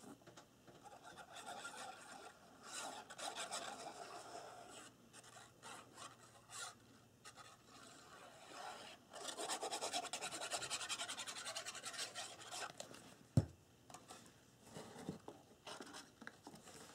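Paper glued onto a handmade craft box is burnished with firm strokes, giving soft, quiet rasping rubs in uneven bursts, with short pauses and one sharp tap partway through.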